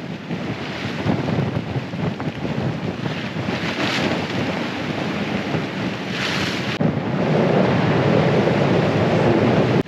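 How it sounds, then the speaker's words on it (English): Strong wind roars over a sailboat crossing the Pacific Ocean, a steady loud rush with gusty swells and buffeting against the microphone, mixed with the wash of waves, and no voices. "This is probably the most wind that we've seen on the whole passage so far actually"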